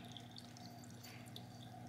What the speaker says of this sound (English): Those three jets are pushing water up against that wall and it's sliding down into the tank